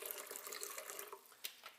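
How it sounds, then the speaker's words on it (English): Water pouring into a blender for a green smoothie, a brief soft splashing stream, fairly faint and close. "let's start by pouring in 2 cups or around half a liter of water"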